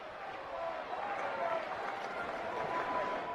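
A sellout baseball crowd at Petco Park, Padres hosting the Astros, cheers on its feet as a continuous broad roar of voices and clapping at an even, moderate level.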